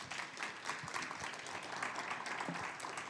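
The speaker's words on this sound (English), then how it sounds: "One round of applause for our presenters." A conference audience applauds presenters at a COP-21 session on how American congregations are cutting emissions, producing a dense, steady wash of clapping that holds at an even moderate level for about three seconds.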